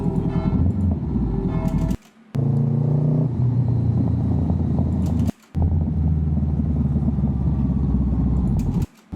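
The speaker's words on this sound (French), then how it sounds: "C'est avec le bruit qu'elle fait la moto." A motorcycle engine rumbles loudly and steadily while riding on the road, its drone shifting pitch slightly, interrupted by three short near-silent dropouts, with no talking.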